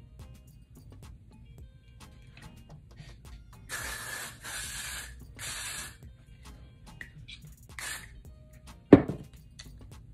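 Three bursts of hissing hair spray from an aerosol can, each about a second long, close by in a quiet room, followed by a soft click and thump.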